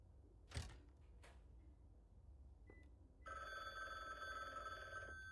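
A telephone rings in The Bookwalker: Thief of Tales, a sustained bright electronic ring starting after a few faint clicks and continuing steadily, with no talk.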